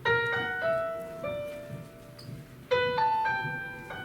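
A short 18th-century-style instrumental turnaround phrase from the Hamilton score, of bright, plucked or bowed notes in a few stepwise segments, with sustained tones and fresh attacks, played alone.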